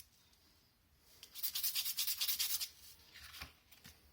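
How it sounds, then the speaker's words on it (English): A pencil tip is rubbed on sandpaper while building a board game box. Quick rhythmic scraping strokes come close and fairly loud in a short burst, then a few softer rubs, with no talking. "how I sharpen it with sandpaper"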